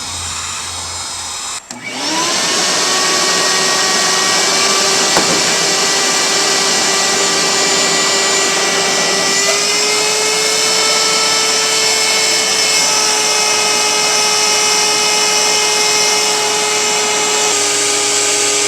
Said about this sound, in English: this is a pretty weak vacuum forming machine using an imperfect vacuum